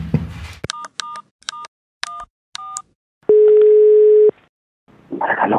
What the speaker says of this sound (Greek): Μήπως δεν μιλάει μαζί σου να τον πάρω εγώ τηλέφωνο?